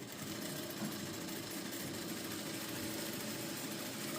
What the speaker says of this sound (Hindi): यहाँ से हमने सीधी सिलाई लगाएंगे।